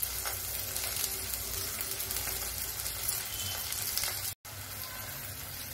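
Onions and green chillies frying in a pan for a desi pulao, a steady close sizzle with soft crackle throughout, broken by one brief silent gap near the end, no talking.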